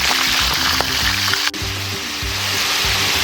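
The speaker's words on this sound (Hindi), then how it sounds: "तो इसको पहले फ्राई कर लेंगे अच्छी तरह।" Chicken liver frying in ghee in a pan, a loud, close, continuous sizzle and crackle with a low rhythmic hum underneath and one brief sharp knock midway, no voices.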